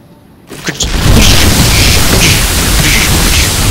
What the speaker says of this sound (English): these probes are all just going to die in a green acid explosion here soon